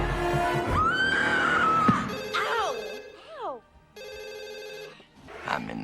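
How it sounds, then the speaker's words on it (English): Telephone ringing in the Scary Movie bath scene, a repeated electronic ring in bursts with a pause between them, mixed with music, other film sounds and a horse-like whinny. "The phone rings, the killer's close"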